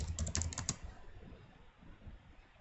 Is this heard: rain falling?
no